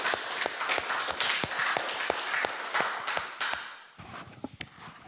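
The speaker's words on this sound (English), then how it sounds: "So another round of applause, please." A small audience gives a round of applause for the speaker at an amateur radio club talk, scattered claps of moderate loudness fading into a few sparse, separate claps near the end.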